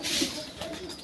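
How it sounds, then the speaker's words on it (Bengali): Pigeons coo softly alongside a water trough in a green outdoor spot, a low continuous murmur of several birds under faint background noise. "অনেক পায়রা।"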